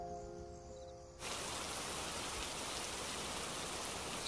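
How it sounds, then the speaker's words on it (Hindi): After a brief quiet start, heavy rain abruptly begins and continues as a dense, steady roar. "अब तो लगता है ये बारिश बस थम जाए।"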